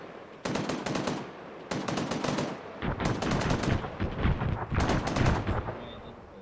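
Rapid bursts of airsoft gunfire crackle during a weapons squad milsim field exercise, four dense strings of shots, fairly close and loud, with brief gaps between volleys.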